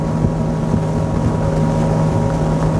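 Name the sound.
XO 260 DSCVR motorboat turning at speed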